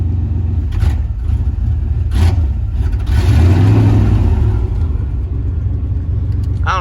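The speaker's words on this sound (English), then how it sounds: "Still stumbling. That's me giving the throttle." A 1993 K1500 pickup engine runs rough and stumbles as throttle is applied, a loud low rumble that swells unevenly into a brief rev around the middle before settling back to idle.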